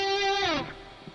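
A distorted lead electric guitar with heavier gain holds a bright sustained note that bends and fades over about a second, loud and alone in a mix.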